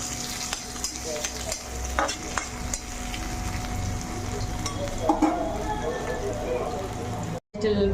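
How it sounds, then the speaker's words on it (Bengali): Chopped onions fry in a pan as a steady close sizzle with occasional stirring scrapes, and a faint hum runs underneath. "কুচি করে পেঁয়াজ পেঁয়াজটাকে একটু লাল করে ভাজবো"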